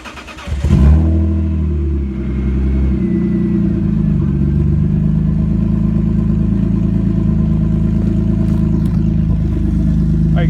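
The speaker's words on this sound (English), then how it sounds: "First, we need that cold start. First time with a muffler delete with this car." A BMW E36 323is with a muffler delete fires up from cold with a loud, brief revving flare, then settles into a steady, rumbling close-up idle that runs for several seconds.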